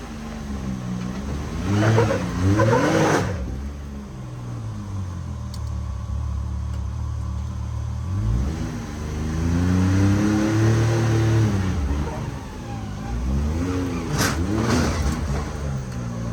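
A 1700-horsepower Cummins diesel truck revs and pulls up onto a trailer, its deep engine loud and close with rising and falling throttle bursts, swelling and easing over about sixteen seconds.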